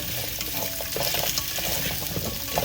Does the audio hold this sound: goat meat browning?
yes